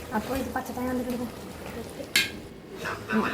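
A pot of chicken curry with grated coconut is stirred, with brief metallic spoon clinks and scraping against the pot and a faint sizzle, while a person talks over it.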